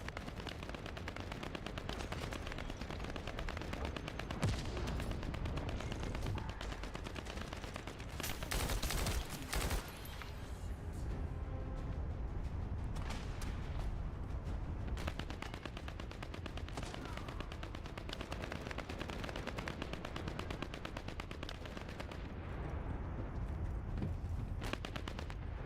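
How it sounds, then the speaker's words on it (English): Relentless gunfire from the shooter video game The First Descendant: dense automatic bursts and heavy explosive reports stack over one another continuously, loud and close, with brief sharp spikes and no speech. "Ah, just constant gunfire from everywhere."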